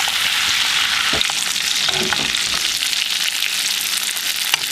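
Steak frying in a cast iron frying pan, a loud, dense, continuous sizzle close up, with a couple of faint knocks partway through.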